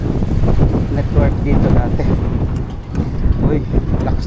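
Strong wind roars and buffets against the microphone while riding a bicycle into a headwind, a continuous rough rushing that dominates the sound.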